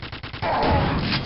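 An enemy firing in Quake 2 sounds as a rapid stutter of shots followed by a loud, dense burst that holds and rings on.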